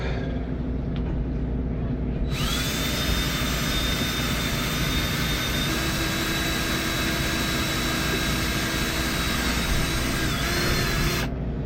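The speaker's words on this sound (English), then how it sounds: "I need to drill this." A power drill whines steadily as it bores holes into part of a sailboat, running loud and unbroken for about nine seconds over a constant low background hum, with no talking.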